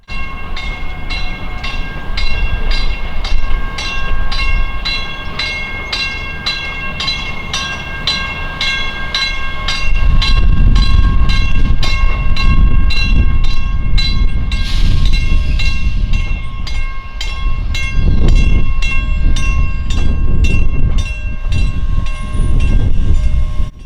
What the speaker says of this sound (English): the 105-led train rolled into the yard and prepared to terminate